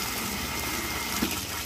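Water rushing through household pipes fed by a newly installed booster pump and pressure tank, a steady loud broadband hiss with no break across the short stretch and no talking.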